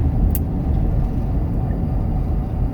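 Interior rumble of a car driving at night, a steady low road and engine drone throughout with a brief faint tick near the start and no talking.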